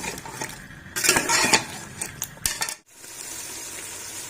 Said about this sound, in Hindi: हम इसकी भुनाई करेंगे।